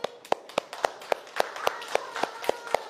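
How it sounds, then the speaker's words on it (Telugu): A group of schoolchildren claps in unison, about a dozen sharp, evenly spaced claps in a steady rhythm, fairly close and distinct against a quiet room. "Very good, claps."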